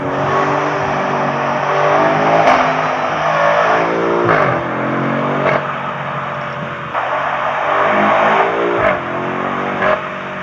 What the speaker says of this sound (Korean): 아마 지금 배기 소리가 조금은 당겼을 것 같은데 배기는 얘는 좀 터지는 것 같습니다